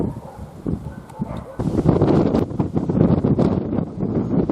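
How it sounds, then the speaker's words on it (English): Gusty wind buffets the microphone on a disused railway line near Manchester, a loud rumbling roar that strengthens midway and keeps blowing; a voice is faintly heard under it. "Another windy day."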